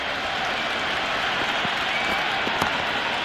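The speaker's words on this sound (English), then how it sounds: "The spectators are absolutely buzzing right now." Stadium crowd at a India versus Australia cricket match in the Cricket 26 video game, a steady wash of applause and crowd noise with no break.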